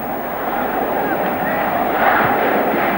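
A football stadium crowd roaring after Brazil's equaliser against Yugoslavia, a dense sustained cheer filling the whole stretch, loud and steady with a slight swell.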